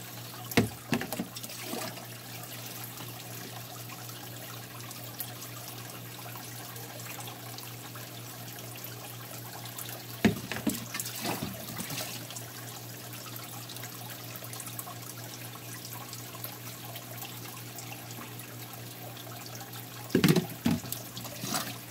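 Water pours steadily into a fish tank, a continuous low watery rush with a few louder splashing bursts near the start, middle and end, close by and with no talking.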